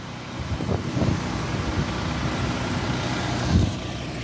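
A 2015 Volvo B11R Caetano Levante coach with a Euro 6 11-litre Volvo engine idles nearby, giving a steady low rumble with slight swells and some outdoor road noise around it.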